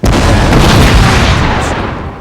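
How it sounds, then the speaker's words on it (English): Cannons fire in the Napoleon: Total War battle game, a loud, sustained blast of booming artillery that rumbles and slowly fades. "Keep up the pressure by firing your cannons at the enemy."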